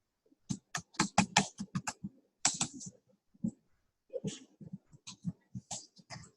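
Quick, irregular keystrokes on a computer keyboard, close and crisp, come in bursts with short pauses while a professional title is typed into a profile form.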